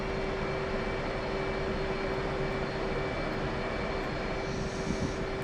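F/A-18C jet engine spooling up in DCS World, a steady loud roar with a constant high whine holding throughout, rising slightly near the end, no talk.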